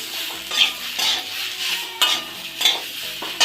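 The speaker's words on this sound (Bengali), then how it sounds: "জিরে গুঁড়ো দিয়ে দিলাম, দিয়ে ভালো করে কষে নেব" Ground cumin and chopped tomato sizzle in a pan while a metal spatula stirs and scrapes them in repeated strokes, with a steady close frying hiss underneath and no talking.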